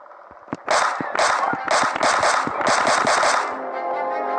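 Loud rapid bursts of automatic rifle fire in the PUBG Mobile game, played with a controller and trigger attachment, several quick rhythmic volleys close up over a steady background hum.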